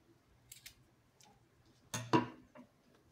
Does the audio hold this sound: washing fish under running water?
no